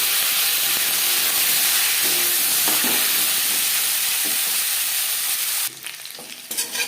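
Potatoes frying in oil with five-spice and bay leaf, left over from frying fish, a loud close continuous sizzle and hiss that drops abruptly near the end, then crackles again, with no talk.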